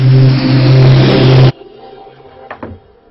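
A loud, continuous car engine roar fills the first half and cuts off abruptly, leaving faint background noise and a couple of short thumps.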